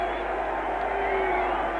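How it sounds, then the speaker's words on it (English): Crowd applause and cheering at a London celebration in Piccadilly Circus, as an airman climbs the tallest lamppost after a sailor; a dense, steady roar of massed clapping and voices, loud and continuous throughout, with faint whistles or whoops rising above it. "Now the applause you hear is for an airman who has just succeeded in following a sailor to the top of the tallest lamppost in Piccadilly Circus."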